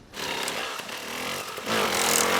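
Motorcycle engine running steadily before wheelie practice, a loud close buzzing drone that holds for the whole stretch and rises slightly in intensity near the end, with no talk over it.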